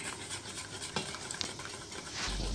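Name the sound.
mixing eggs and flour in a mixing bowl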